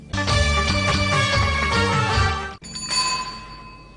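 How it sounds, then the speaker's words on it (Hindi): A bright metallic bell rings in quick repeated trills, then one last clear ring fades out, loud and close, with nothing else around it. "सिर्फ मुझे वो साइकिल की घंटी दे दीजिए।"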